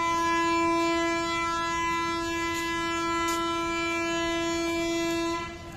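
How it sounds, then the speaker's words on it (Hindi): A Janshatabdi Express train pulls out of a station, giving a loud, steady tonal drone with layered harmonics that holds for about six seconds before trailing off. "केवल 2 मिनट का हॉल्ट है और ट्रेन हमारी चल चुकी है।"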